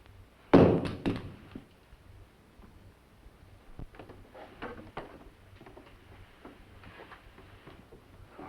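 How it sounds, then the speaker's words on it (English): Gun thrown down onto a floor: one sharp, heavy thunk with a short clatter right after, followed by quiet room tone and faint small knocks and movement. "Throw your gun down."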